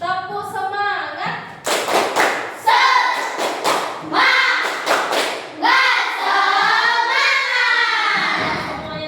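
A school class claps out a rhythmic cheer in unison, loud bursts of patterned hand claps mixed with children's voices chanting along close by.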